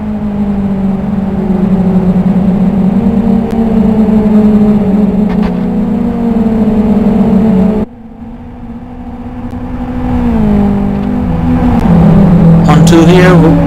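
XFG and XRG cars racing in the Live for Speed video game: a loud, steady engine drone with shifting pitch and a brief drop before it revs back up, while a commentator talks over it.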